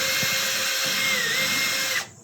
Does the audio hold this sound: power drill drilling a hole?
yes